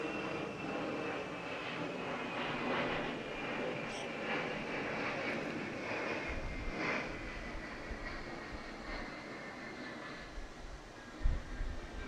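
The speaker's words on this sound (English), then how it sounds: "Let this aircraft pass." An aircraft passes overhead during an outdoor school opening ceremony, giving a broad, steady engine roar that stays loud throughout with no talk.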